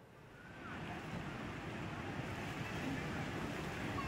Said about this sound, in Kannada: ನೇತ್ರಾವತಿ ನದಿ ಈಗ ಮೈದುಂಬಿ ಹರಿತಾ ಇರೋದ್ರಿಂದಾಗಿ